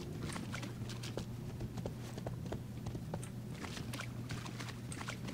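Clip-clopping hooves of a mount in the online video game RIFT, a steady rapid rhythm of light hoof beats with a low hum underneath.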